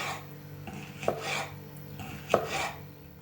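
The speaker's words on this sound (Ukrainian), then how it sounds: "розрізала на ось такі смужки, вичистила серцевинку, плодоніжку і нарізаємо дрібною соломкою" A knife slices bell peppers into thin strips on a cutting board, giving a few soft, quiet scraping cuts with two sharper knocks against the board, close by and without talk.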